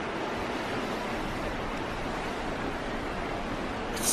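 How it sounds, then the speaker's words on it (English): Ocean waves heard from a cruise ship balcony make a steady, broad rushing wash with wind mixed in, continuous and fairly loud throughout with no distinct breaks or voices. "listen to the waves."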